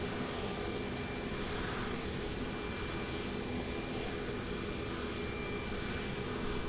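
An airliner on approach to runway 20 at Lisbon Airport gives off a steady, broadband engine roar that holds at an even, moderately distant level throughout, with no break and no voices.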